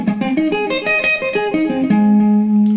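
A flat major arpeggio swept quickly on electric guitar, a rapid run of single picked notes climbing and falling before settling on one sustained low note.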